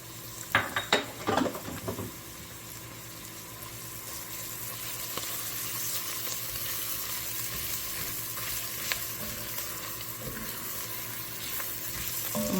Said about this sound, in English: And then finally, I'm going to add my chopped garlic.